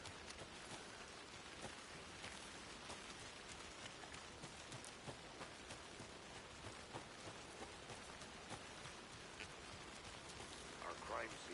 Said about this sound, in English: I never minded rain.